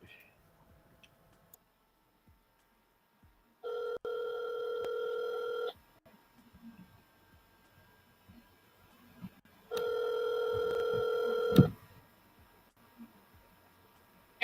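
A telephone call being placed: two sustained, steady electronic ringback tones a few seconds apart, each lasting about two seconds, heard close and clear over a quiet background with faint clicks between.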